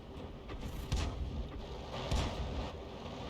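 A tank cannon round from a T-14 or similar armor in a video game slamming into rubble, heard as a dull distant boom with a couple of low thuds amid steady battlefield rumble.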